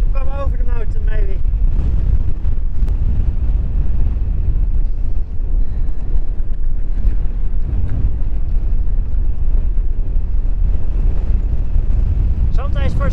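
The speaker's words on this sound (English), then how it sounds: "Sometimes for a split second the wind is gone, and it comes back straight away." Strong wind in the cold Atacama Desert, a loud continuous roaring buffet across the microphone that barely lets up, with someone talking over it at the start and end.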